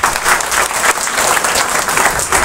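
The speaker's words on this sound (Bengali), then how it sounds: "তাদের জন্য একটা হাততালি" Loud, dense audience applause filling the space evenly, a continuous close wash of clapping with no talk.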